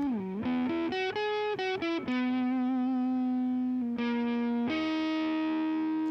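A PRS Private Stock Singlecut electric guitar with heavy distortion, on the neck pickup, plays a quick run of notes, then holds long sustained, saturated tones, loud and up close.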